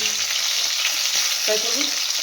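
Hilsa fish fries in hot oil, giving a continuous bright crackling sizzle that stays steady and close throughout, with a faint low clink or voice-like murmur partway through.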